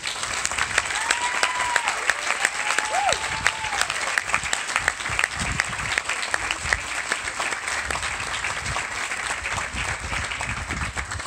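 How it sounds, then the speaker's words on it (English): Sustained applause from a large audience at an academic awards ceremony fills the whole stretch, dense and steady, with a couple of faint whistles rising above the clapping. "let's give a round of applause for the first winner of this award, is Will Sutton"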